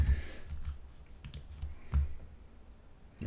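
Mouse clicks on a computer while saving and publishing a home page in a page builder, a few sharp close clicks amid quiet room noise.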